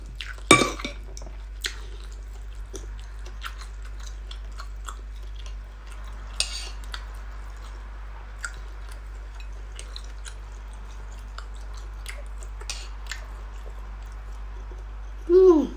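Papaya salad (som tam) being eaten, with scattered light clinks of cutlery against a dish and faint chewing, sparse and close over a steady low hum.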